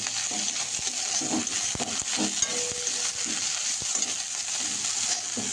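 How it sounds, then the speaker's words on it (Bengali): Chopped Brahmi greens and bottle gourd frying in hot oil in a pan, a steady close sizzle with intermittent stirring scrapes and light clinks of a utensil. "ব্রাহ্মী শাক কোচানোটা আগে এইভাবে তেলে ভেজে নিয়ে দিয়ে দেবো লাউটা"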